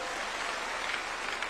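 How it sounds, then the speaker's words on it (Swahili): Applause from an audience of village elders at a State House gathering in Kenya, a dense, steady clapping wash lasting the whole short moment with no voices rising above it. "Pigieni hawa makofi."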